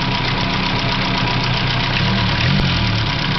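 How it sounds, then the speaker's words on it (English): The four-cylinder engine of a 1949 Crosley car idles steadily with a loud, close, continuous rumble and a slight knocking texture, running alone without any voices over it. "the four-cylinder engine in the 1949 Crosley"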